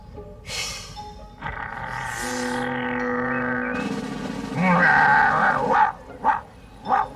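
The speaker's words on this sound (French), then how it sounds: "Le chien du fermier a flairé votre piste." A farmer's dog on the trail gives several yips and barks with whimpering tones, set among cartoon sound effects and music, fairly loud and close.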